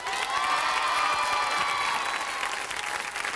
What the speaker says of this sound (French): je crois qu'on peut les applaudir encore plus fort